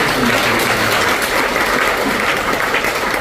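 A church congregation gathered for an early-morning worship service at a Waikiki resort hotel claps warmly, a dense, even wash of applause that holds steady from start to finish.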